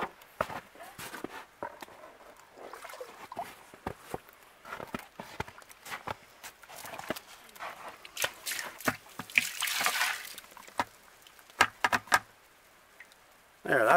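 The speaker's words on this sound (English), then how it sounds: "Then we'll get some water and we'll get this dumped in there." Water dumped into a bucket makes a short, loud splashing rush near the middle, surrounded by footsteps and handling clatter.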